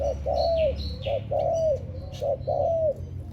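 An old decoy bird gives repeated clear cooing calls, about four rising-and-falling phrases in quick succession, close and loud over a low background rumble.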